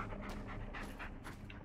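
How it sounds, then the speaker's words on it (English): Creatures growl and pant in the Blair Witch video game, a steady, close, breathy rumble with rhythmic huffs running through the whole short stretch, with no talk over it. "there's things growling at me"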